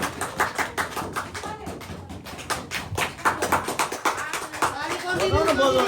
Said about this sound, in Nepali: सबैले ताली बजाइदिनुहोस्।